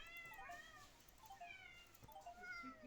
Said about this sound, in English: Yes, cats, I hear ya.